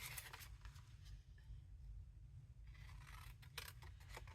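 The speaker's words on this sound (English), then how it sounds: "you can round them with your scissors" Scissors snip and scrape through paint chip sample card in short bursts, close and fairly quiet, with a low steady hum underneath.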